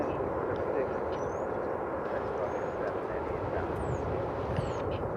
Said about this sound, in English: It's American flight 6060 788 or 787-8.